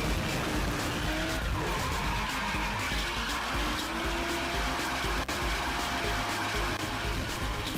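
A car skids in the Midnight Motorist minigame of FNAF: Pizzeria Simulator, a steady, loud, continuous screech of tires blended with engine roar that holds the whole time without any talking.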